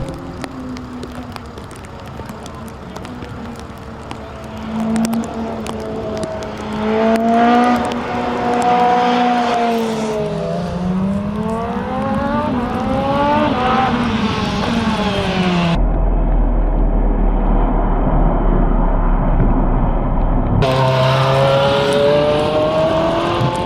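Lamborghini Le Mans hypercar testing on a wet track in Austin, Texas, in rain: a loud racing engine revs and shifts through gears, its pitch climbing and dropping as the car passes, with a brief abrupt cut midway.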